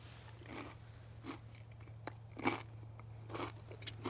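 Someone chews a pork rind softened by melted sharp cheddar at a camp in the woods, giving a few soft, close crunches and moist chewing sounds spread over a low steady hum.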